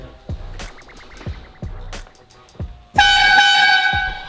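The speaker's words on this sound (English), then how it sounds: "Can you honk the horn for me?" A classic Ferrari's horn gives a loud, steady blast at close range after a few seconds of quieter clicks and knocks, and the tone holds to the end.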